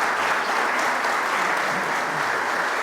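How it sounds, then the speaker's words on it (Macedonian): Steady, dense applause from a large group of members of parliament fills the whole stretch at an even, sustained level. "го поздравија со аплауз"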